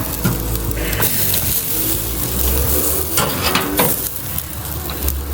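Pork sausages sizzling in a hot pan, a steady loud crackle and spatter with occasional scraping from stirring, continuous throughout.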